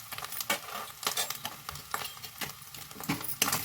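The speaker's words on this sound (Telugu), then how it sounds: "ఇవి బాగా కలపాలండి" A spoon stirs spices into chicken noodles in a pan, rhythmic scraping strokes against the metal repeating about twice a second, with a light sizzle underneath.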